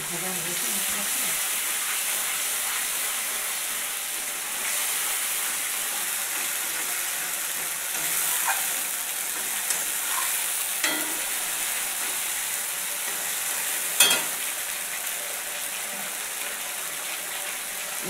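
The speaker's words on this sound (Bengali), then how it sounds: "ভাজা হয়েছে মশলাটা।" Spice paste for a local fish curry with cumin fries in a pan with a steady sizzle and hiss, joined by occasional scrapes and clacks of stirring and one sharper knock near the end.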